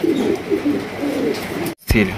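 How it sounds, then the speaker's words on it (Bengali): Soft, rhythmic coos of Lakkha pigeons repeat close by, a brief pause near the end, then another low coo follows. "অস্থির একজোড়া লক্ষা কবুতর"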